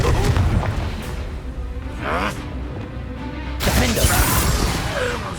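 Spell blasts and explosive booms burst out during combat in Hogwarts Legacy, with loud crashing impacts and rumbling bursts layered over busy battle noise.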